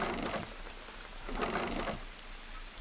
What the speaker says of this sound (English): It's been raining a lot here lately.